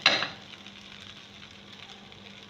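A noodle cake fries in a pan on medium heat just after being flipped, opening with a sharp burst of sizzle that settles into a quieter, steady crackle close by.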